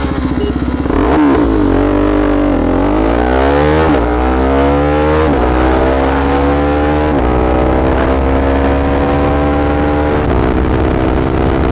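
Two KTM Duke 390 gen 3 motorcycles, one stock and one modified, launch together in a drag race. Loud engines rise through repeated upshifts, each gear sweeping upward in pitch, close and continuous.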